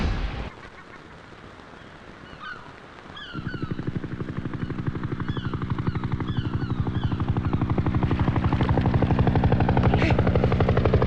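A helicopter in a Telugu film scene: a loud, steady rotor thump starts after a quieter opening and grows stronger, with the chopping beat continuing evenly to the end.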